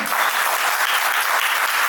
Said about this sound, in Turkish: Gürültülü alkış eşiderek.